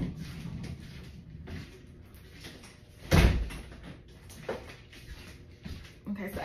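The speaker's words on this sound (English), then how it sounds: "Let me shut my door." A door is pushed shut in a room with a single sharp thud midway, amid a person speaking and faint shuffling movement.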